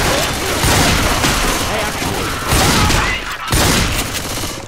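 Dense bursts of automatic gunfire in Left 4 Dead 2 come in loud waves with brief gaps, a near, continuous fusillade under shouted voices.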